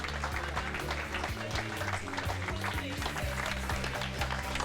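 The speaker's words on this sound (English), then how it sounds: "Big round of applause." Crowd applauding the winners of the Gentleman Drivers race at Magny-Cours in 2008, steady clapping that runs under music and an announcer's voice throughout.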